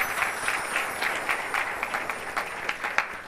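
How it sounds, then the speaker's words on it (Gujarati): Audience at a devotional discourse clapping hands together, a steady patter of many claps filling the room at moderate loudness with no voices over it. "તાલિયા બજાવો જી, વાત મેં દમે."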